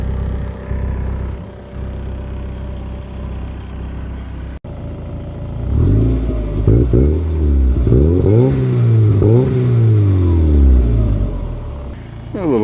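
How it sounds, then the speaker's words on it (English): A 1990s NA Mazda Miata with a new aftermarket catback exhaust rumbles close by, with a deep, smooth tone that rises and falls in several short rev swells after a quieter opening stretch. "At idle, it's really not much louder than stock. It just has a deeper, smoother tone to it."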